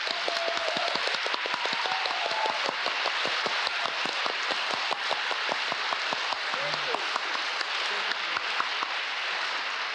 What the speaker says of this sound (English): I ask you to join us in a grateful applause for